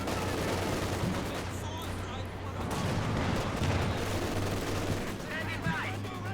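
Tank cannon and machine-gun fire crackle through a multiplayer World War II strategy game match, with repeated bursts and booms over a low engine drone while a commentator talks throughout.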